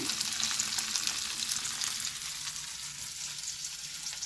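Tomatoes fry in oil in a pan, giving a steady, dense hiss of sizzling that stays loud and constant throughout with no talking.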